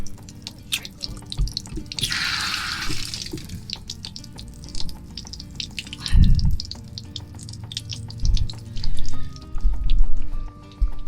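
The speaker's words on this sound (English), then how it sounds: "This might take a minute to drain all that water out." Water drains from an Airstream trailer's drain valve during winterizing, running and dripping steadily, with splashing bursts and low gurgling thumps as it pours out, fairly close, with no talking.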